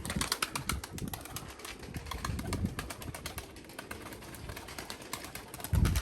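A tempo pigeon comes in to land after a long, tiring flight, its wings flapping in soft repeated bursts with faint cooing, a louder flutter of wingbeats close by at the very end.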